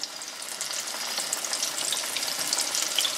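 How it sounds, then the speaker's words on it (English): Deer meat slices fry in 350-degree peanut oil with a dense, steady sizzle and crackle that holds loud and close throughout, without any talking. "Now we're going to put our slices into the oil."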